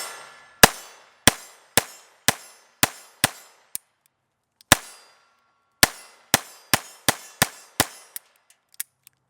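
Beretta 92 pistol fitted with a Ciener .22 conversion kit, firing about fifteen sharp, close shots in two strings with a brief pause between, each crack decaying quickly, and no talk.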